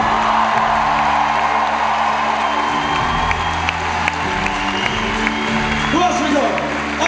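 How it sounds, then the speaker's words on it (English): Concert crowd at Brixton Academy cheering and applauding for the band, a loud, continuous wall of clapping, whoops and shouts that holds steady throughout. "give them a fucking round of applause"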